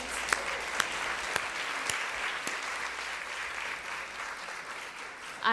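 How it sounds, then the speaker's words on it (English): Listeners at a literary anniversary gala give themselves another round of applause, a soft, even wash of many hands clapping that holds steady throughout, with a few distinct nearby claps. "Just give yourselves one more round of applause, please."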